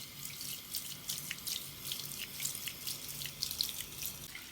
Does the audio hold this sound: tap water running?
yes